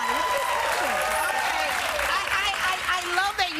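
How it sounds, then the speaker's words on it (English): A studio audience on a daytime talk show claps steadily and loudly for several seconds, with a voice rising over the applause throughout. "I love that you all are clapping right now"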